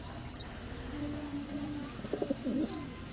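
A young pigeon chick in a loft gives a few soft, thin peeping chirps near the end over a low background hum, with a brief high squeak at the start.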